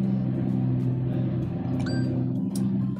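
A tree and branch grinding truck working outside in a neighbor's yard drones steadily in the background, a constant low mechanical hum with a brief higher whine near the end.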